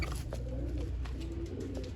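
Pigeons coo softly in low, repeated throaty phrases close by, with a steady background hum and no voices.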